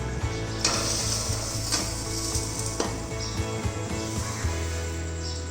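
Sugar being stirred into a hot pan of zarda rice, with a steady sizzle and repeated scraping and clinking strokes at an irregular rhythm, close and loud throughout.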